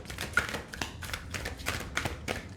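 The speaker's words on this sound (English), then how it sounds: "I'm going to shuffle 1 or 2 more times." Tarot cards being shuffled by hand: a run of quick, soft papery taps and riffles in an irregular rhythm, close and fairly quiet, with no talking.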